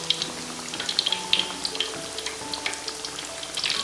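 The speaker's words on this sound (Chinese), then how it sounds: "依次我们把裹好的冬瓜片给它下入油锅" Battered winter melon slices deep-fry in a wok of hot oil, giving a continuous close sizzle with scattered pops and crackles as pieces are added.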